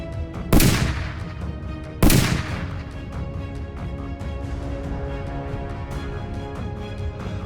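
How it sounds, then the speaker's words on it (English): Two loud gunshots crack in a forest about a second and a half apart, each leaving a long reverberating tail that fades into a steady background hum. "The deafening shots reverberated through the forest."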